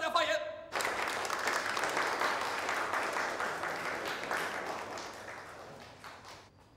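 An audience at a military unit meeting claps in warm welcome as a driver comrade is called to the stage, a broad burst of applause that starts abruptly and then slowly fades over several seconds.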